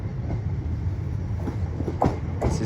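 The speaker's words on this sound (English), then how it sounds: "Arriving now is a terminating London North Western Railway service from" A London Northwestern Railway Class 350 electric unit pulls into Crewe station on the West Coast Main Line, a steady low rumble of wheels and traction with faint clacks and a brief squeal, continuous and fairly close, with no talk.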